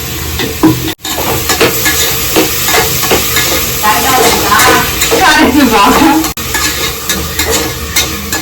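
Chopped tomatoes sautéing with salt in a hot pan sizzle continuously while a spoon scrapes and stirs in quick, close strokes, with someone speaking over the cooking.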